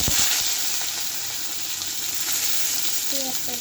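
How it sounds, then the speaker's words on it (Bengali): Sliced onions frying in hot oil in a pan for egg biryani, a loud, steady, close sizzle with light stirring throughout. "পেঁয়াজটা একটু ভাজা ভাজা করে দিই"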